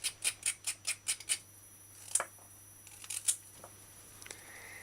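Sharp, crisp snips from cutting the tips off vegetables, a rapid run of about eight evenly spaced cuts followed by a few scattered single snips, close and fairly quiet with no talking.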